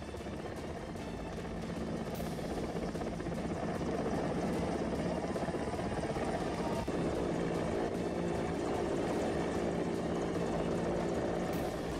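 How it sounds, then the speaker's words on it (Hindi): Helicopter hovering over a flood rescue in Bilaspur, Chhattisgarh, a steady loud rotor roar and whine throughout, constant and close for about twelve seconds. "हेलीकॉप्टर से रेस्क्यू किया गया इस शख्स का, जो कि छोटे से पेड़ के सहारे वहां पर फंसा हुआ था।"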